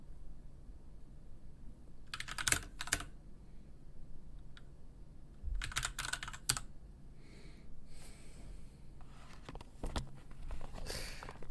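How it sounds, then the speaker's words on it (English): Computer keyboard typing heard alone, with quick bursts of key clatter separated by pauses, fairly close and moderately loud against a quiet room hum. "No voice, all keyboard."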